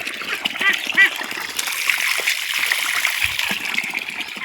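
Ducks splash and dabble in water close by, with scattered wet splatters and faint quacks over a steady outdoor background; a voice speaks briefly.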